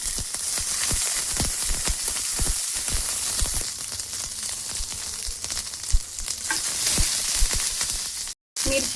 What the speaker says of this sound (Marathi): मिरची भाजलेली आहे